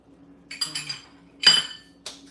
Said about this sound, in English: We stir that around